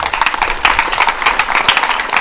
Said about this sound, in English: Please, the students, can you please clap for the staffs first?